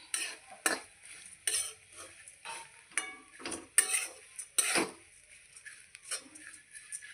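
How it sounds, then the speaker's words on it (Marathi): A spoon or spatula scrapes and turns poha up and down in a pan, producing repeated metallic scraping strokes with a faint sizzle, close and alone without talk. "आणि आता हळूहळू खालीवर करत राहायचे।"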